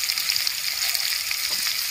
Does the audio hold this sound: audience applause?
no